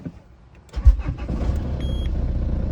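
A car engine cranks briefly and catches with help from a Mioji 4in1 jump starter kit, then settles into a loud, steady idle up close, with a short electronic beep partway through.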